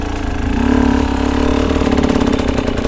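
A hard enduro motorcycle engine runs at low revs, a close, loud, steady throbbing idle with slight fluctuations in throttle throughout.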